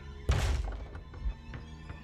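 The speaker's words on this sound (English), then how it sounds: "Someone's banging at the cellar door and won't stop." Someone bangs on a cellar door in The Beast Inside, giving one heavy, close thud followed by fainter knocks, all quiet and muffled.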